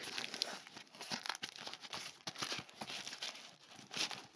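Parcel packaging for a LiFePO4 battery charger is ripped and crinkled up close, with irregular bursts of tearing plastic and rustling throughout.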